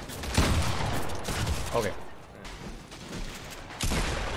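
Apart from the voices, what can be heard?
gunshots in Fortnite video game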